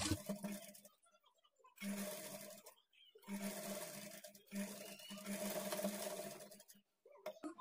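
Sewing machine stitching a plain blouse, whirring in several separate runs of a few seconds each with quiet gaps between, fairly faint and steady.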